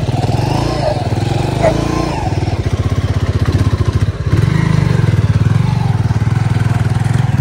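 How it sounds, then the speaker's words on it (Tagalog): A motorcycle engine chugs steadily up close, straining and pulsing on a rough, difficult road, with voices talking briefly over the rumble. "Motor po nahihirapan din eh."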